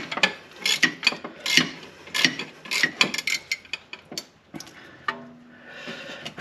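Ratchet clicks and metallic tool noises as a bolt is broken loose with an 8mm Allen on a straight extension while installing a turbo on a 2017 VW Alltrack, irregular bursts of clicking and clanking, close, with no talk.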